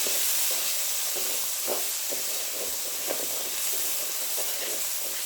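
Ground turmeric, coriander and red chili powder fry in a pan for a tinda and potato curry, producing a steady hissing sizzle with soft, irregular stirring scrapes underneath.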